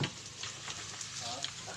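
Chopped ginger dropped into a hot frying pan with marinated meat, giving a steady sizzle and some stirring scrapes.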